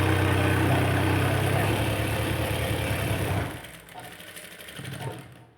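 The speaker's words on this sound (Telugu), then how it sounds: "దీనికి ఒక కుట్టు వేసుకుందాం మనం" A sewing machine stitches a cut-work blouse with a loud, steady motor whir for about three seconds, then drops to softer, intermittent running.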